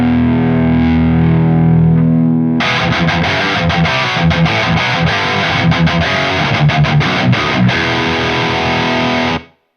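Electric guitar through a Horizon Devices Precision Drive pedal with the drive barely cracked open: a sustained ringing chord, then loud, thick distorted riffing with tight palm-muted chugs and short stops, played alone.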